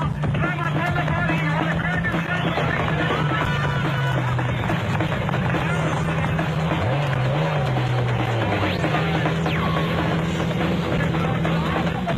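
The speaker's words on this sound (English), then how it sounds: "De Villiers and Jordan were heading for yet another victory in their Nissan hardbody" A Nissan Hardbody truck racing in the production vehicle class of the 2002 Sugarbelt off-road race in South Africa, engine droning loudly with pitch rising and falling as it revs, under continuous commentator speech.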